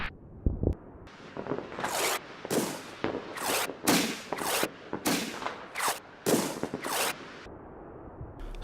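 Artillery rounds landing in the Combat Mission war game, a series of sharp, loud bursts arriving roughly every half second to second, each a crackling impact with brief decay, close and unaccompanied by talk.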